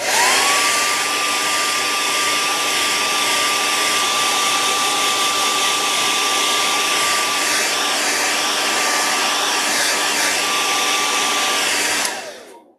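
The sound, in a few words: hair dryer drying paint on a jerkbait fishing lure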